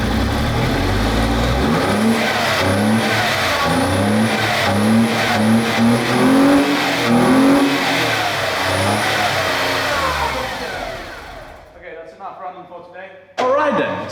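An Audi B5 2.8 V6 with a straight pipe exhaust runs nearby, revving repeatedly with loud rising and falling roars, then settling to a rough, uneven idle as it dies down; a voice speaks over it.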